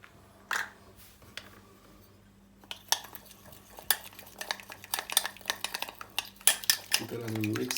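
A spoon scrapes and clinks against a bowl while a spice paste of ground cumin, salt and crushed red chilli is mixed in, the strokes irregular and close, with a low steady hum underneath.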